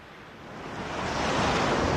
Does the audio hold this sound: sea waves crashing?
yes